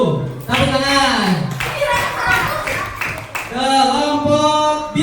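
Schoolchildren in a classroom clap for a group that has just been given its score, rhythmic hand claps running through lively overlapping voices and chanting.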